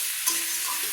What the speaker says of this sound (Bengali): একটু নেড়ে নিলাম মশলাগুলো দিয়ে